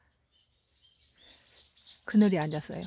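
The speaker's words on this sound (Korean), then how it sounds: "새소리도 많이 들리죠." Faint, scattered bird chirps drift from the countryside around a rural vegetable plot. Then a person nearby starts talking loudly over them.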